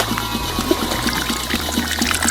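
A small toy water pump with an extended hose from a miniature LEGO water well pours water onto model trees, a continuous close trickle with light rhythmic ticking of the pump underneath.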